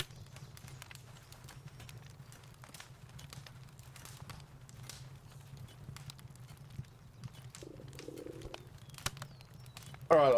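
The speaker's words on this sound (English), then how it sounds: "so you might hear a little bit of bird chirpiness in the background" Birds call faintly outdoors through an open door, soft cooing and scattered chirps under a low steady hum, with a few sharp clicks and a brief louder burst at the end.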